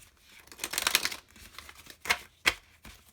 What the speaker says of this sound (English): I'm going to draw the other cards first.